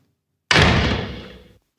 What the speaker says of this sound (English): And Victoria Rich closed the door.